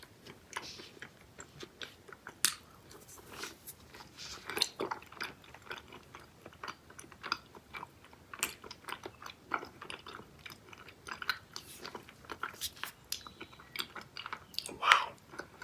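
Someone eats Yuki & Love spring mochi candy, strawberry-flavoured among three flavours, with close, quiet, irregular chewing clicks and sticky smacks, plus a few sharper bites throughout and no talking.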